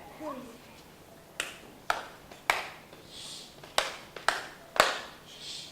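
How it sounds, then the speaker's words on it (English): In a school music class, a single child claps out a rhythm, six or seven crisp, close hand claps with uneven spacing between them, standing out against a quiet room after a brief bit of talk. "Will you clap number 2 for me?"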